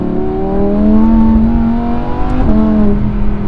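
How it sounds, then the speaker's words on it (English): Naturally aspirated V10 of a Lamborghini Huracan STO, a race-homologation street supercar, revving up in a steady climb, with a brief lift and re-blip near the end, loud and close from inside the cabin. "The beauty of having a naturally aspirated supercar is that you can really modulate the throttle inputs."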